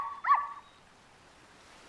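Small cartoon dog yipping and whimpering, one short high whine near the start and another cut off at the very end, fairly faint with quiet gaps between.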